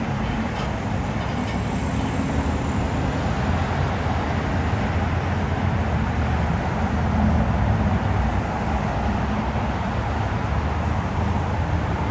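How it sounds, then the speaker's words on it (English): Road traffic near Toronto airport fills the clip with a continuous low rumbling roar, steady and moderately loud, with no break or distinct single vehicle standing out. "you can hear the traffic as well"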